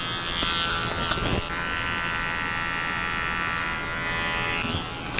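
Electric hair clipper cutting hair with the clipper-over-comb technique in a barbershop setting, a steady close, loud motor buzz running throughout with brief clicks and scrapes of the blade against the comb, no talk.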